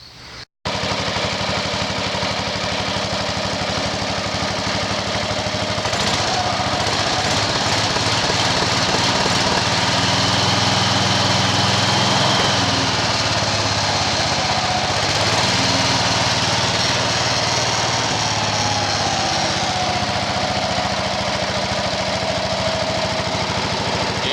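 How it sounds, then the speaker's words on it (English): A garden tractor engine fitted with a new carburetor and air cleaner idles low, a loud, close, continuous rumble that stays steady throughout. "Never idled this low before I put the carburetor on it."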